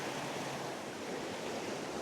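Waterfalls under overhanging branches rush in a dense, constant broadband roar, steady and fairly close, with no pauses and no voices.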